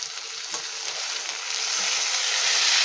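Cucumber pieces hitting hot oil in a pan for a mixed drumstick, cucumber and tomato curry, giving a steady close sizzle that grows slightly louder, with faint stirring scrapes underneath.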